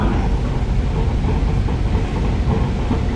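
An electric metro train rumbles steadily along the rails between Pak Kret and Bang Na, a continuous low-frequency roar with faint rattling, close and loud throughout, with no voices.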